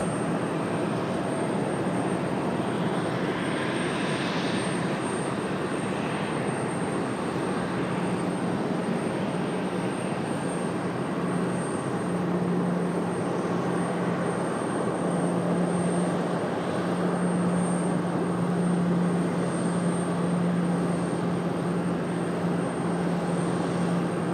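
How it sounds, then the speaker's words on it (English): A Bombardier jet arriving at Raleigh Durham airport from Bedford gives a steady, loud, unbroken roar that holds evenly for the whole stretch, with no voices over it. "Got that Bombardier coming in from Bedford. It's our next arrival."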